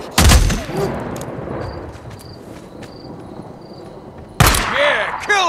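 Loud bursts of gunfire in the video game Days Gone: one sharp volley near the start and another close, heavy burst near the end, with a steady insect-like drone and faint shouted voices in between.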